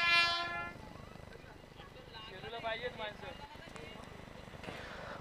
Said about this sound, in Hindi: एक लोकल गाडी पास होते